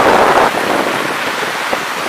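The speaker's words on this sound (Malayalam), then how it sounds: "കണ്ടോ ഭയങ്കര മഴ." Heavy rain pours down steadily over a drained paddy field in Kerala, a loud, dense hiss of falling water with no voices over it.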